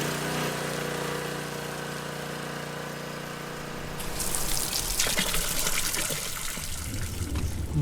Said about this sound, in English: they run a hose from their truck to the barrel, fire up a generator, and begin refilling